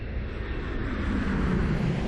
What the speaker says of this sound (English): They're giant war planes, says the guide. They were called flying forts.